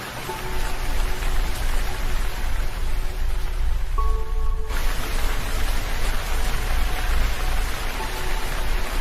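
Steady rain pours down as a sound effect for a children's story, a dense, even hiss of falling drops that runs continuously at moderate loudness with no voices.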